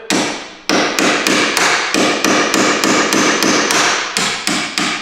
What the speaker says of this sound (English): now we're gonna punch out the rest of this one right here